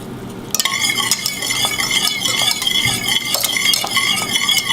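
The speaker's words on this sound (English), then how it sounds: "just swirl it around in there, and you can see it's getting thicker by the second" A fish and shrimp sauce is stirred and swirled in a hot pan, with utensil scrapes and clinks against the metal over a soft frying sizzle. The sound is close and continuous.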